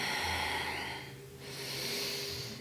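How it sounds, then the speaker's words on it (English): Ujjayi yoga breathing through the nose with a slight throat constriction: a long airy inhale, a brief pause, then a steady hissing exhale, close and fairly soft, with no talking. "So engaging straight into that Ujjayi breath. Breathing in and out of your nose."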